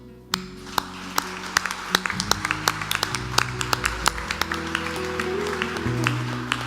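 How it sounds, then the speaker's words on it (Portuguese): A church congregation claps in a steady rhythm of sharp, distinct hand claps during worship, with sustained music tones underneath. "Vamos aplaudir o Senhor?"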